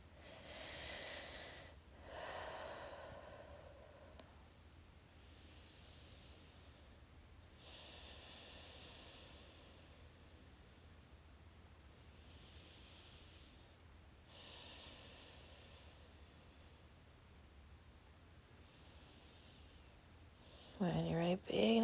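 Deep, slow breathing during a yoga flow, with long airy inhales and exhales repeating every few seconds, close and steady, with a voice briefly speaking near the end.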